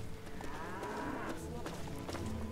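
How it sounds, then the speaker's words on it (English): Cow mooing in Fallout 3, a low drawn-out moo that rises and falls over a couple of seconds against steady game background noise, moderately near. "Are you really talking to a cow?"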